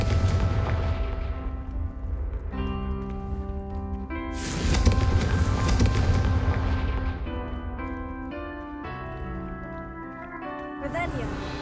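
The Confringo explosive spell goes off in Hogwarts Legacy with loud, booming blasts and rumbling bursts layered over sustained musical tones, and a voice speaks the spell's name.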